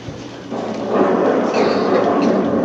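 Thunder rolls in ahead of a storm as a loud, deep rumble that swells after a quieter start and then sustains as a broad roar through to the end.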